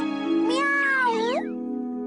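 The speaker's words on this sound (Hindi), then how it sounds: "अरे ये तो वही बिल्ली है।" A cartoon cat gives a single drawn-out, wavering meow over a steady low hum, close and clear.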